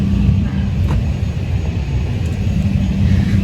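Inside the cabin of a small passenger airplane on a one-hour domestic flight, a loud, steady low engine roar and rumble hums continuously.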